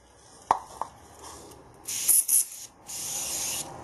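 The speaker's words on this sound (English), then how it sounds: "I've got some anti-spatter spray." Short hissing bursts from an aerosol can of anti-spatter spray before MIG welding, three or four sprays of varying length after a couple of sharp clicks, close by with no speech.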